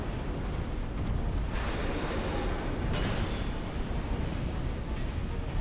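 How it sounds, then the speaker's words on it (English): A deep, sustained rumbling blast from the Dark Souls 2 video game fills the whole stretch, with a couple of brighter surges layered over a continuous roar and no speech. "And the explosion killed me again."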